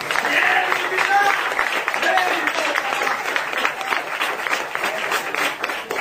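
A church congregation applauds together in a dense, continuous wash of clapping that holds steady from start to finish, loud and close.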